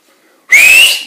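A single loud human whistle, a sharp rising tone that starts abruptly after a brief quiet and holds strongly for about half a second before fading slightly.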